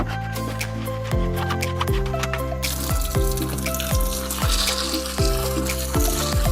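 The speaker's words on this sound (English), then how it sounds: "Using the steam cleaner and pressure washer to blast out the nooks in the frame." A steam cleaner and pressure washer blast water into the nooks of a flooded salvage car's frame, a steady loud hiss and spray with repeated rhythmic pulsing throughout.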